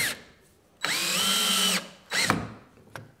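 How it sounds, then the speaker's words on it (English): A power drill drives a screw into softwood in two bursts: a long steady whine of about one second, a pause, then a shorter run that bogs as the screw seats, close and loud with no talk. "let's just show you how these screws perform. Got one there, let's try in softwood first."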